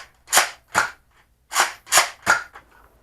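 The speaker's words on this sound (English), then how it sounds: "this has a really ratchety kind of pumping mechanism" The Double Dealer toy blaster fires in a quick series of sharp, snappy cracks, six close-up shots in an uneven rhythm with a short pause midway and a faint click at the end.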